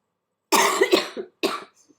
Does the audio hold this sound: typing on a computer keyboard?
no